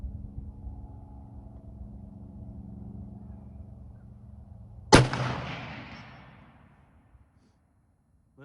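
A single loud gunshot from a Remington M1903A4 rifle fired at a range, a sharp crack followed by a long rolling echo that fades, preceded by a low idling rumble.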